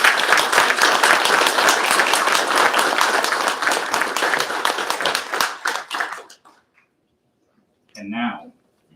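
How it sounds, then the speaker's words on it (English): Loud, close applause at a U.S. Army Corps of Engineers retirement ceremony, sustained for several seconds before tapering off into silence, followed by a brief spoken voice. "let's give her a round of applause"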